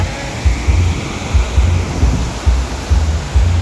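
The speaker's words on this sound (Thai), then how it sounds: "มาเที่ยวน้ำตกค่ะ มาเที่ยวน้ำตกตาโตน" Tat Ton waterfall in Thailand rushing steadily, a loud, dense wash of falling water with periodic low surges and wind buffeting the microphone, with no voices.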